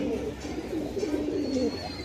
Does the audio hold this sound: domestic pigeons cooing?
yes